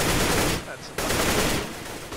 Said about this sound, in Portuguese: Agora a gente consegue conectar uns tiros no Shake.